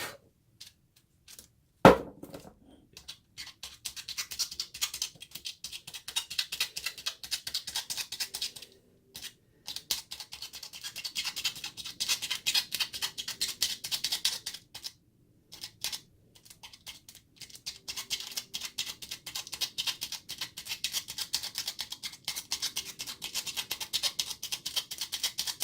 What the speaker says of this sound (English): let's poke our holes here.